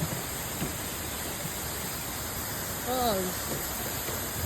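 Rushing water from a waterfall near a hanging bridge, a steady broad roar heard from some distance, with a short exclamation from a person and a faint bird-like chirp partway through.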